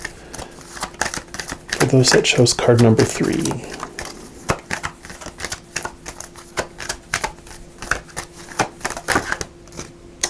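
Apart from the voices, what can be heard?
shuffling a deck of cards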